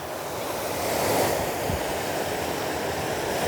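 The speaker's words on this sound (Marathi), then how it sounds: "इथे एक छोटासा वॉटरफॉल आहे" Steady, close rushing of a small waterfall, Kumbhe Waterfall in Raigad, a continuous broadband roar with a slight swell in the middle and some wind buffeting.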